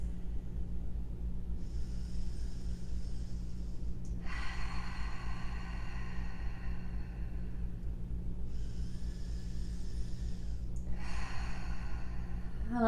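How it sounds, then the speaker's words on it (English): Deep breathing during a power yoga session, with several long airy inhale and exhale passes, each lasting a few seconds and separated by pauses, over a steady low hum. "Nice deep breaths."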